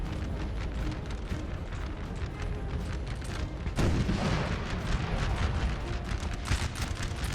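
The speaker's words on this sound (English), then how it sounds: "The artillery though, to JD's credit, is firing at a really, really good position" Artillery fire in a Napoleonic battle within Napoleon: Total War, heard as a dense rumble of booming cannon shots and crackling volleys, growing heavier and louder partway through with no talking.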